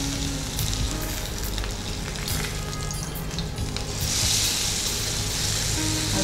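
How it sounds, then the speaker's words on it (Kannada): Stuffed fish fries in a pan with a steady, loud, continuous sizzle and crackle that stays unbroken throughout, with no voices. "ಫ್ರೈ ಆಗಿದೆ ಈ ಥರ"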